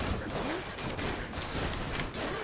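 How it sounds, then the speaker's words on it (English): Explosions in the action video game Hades form a dense, continuous barrage of crackling, booming bursts, with brief whooshing game effects running through the steady roar. "Think I deflect an explosion there"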